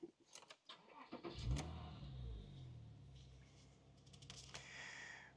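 A 2009 Porsche Boxster 987 with a 2.7-litre, 245 hp engine starts up: a brief starter crank catches into a revving flare, then settles into a steady idle, with a few clicks at the start and end.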